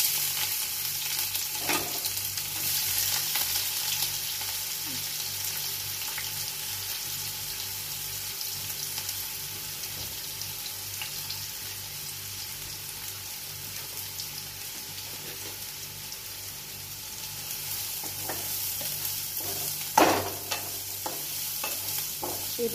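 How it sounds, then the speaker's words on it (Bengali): Finely chopped onion fries in hot oil in a pan, giving a steady, close sizzle with occasional stirring clinks and a sharper scrape near the end. "এই পেঁয়াজটা এবার আমি দিয়ে দেবো এই তেলের মধ্যে।"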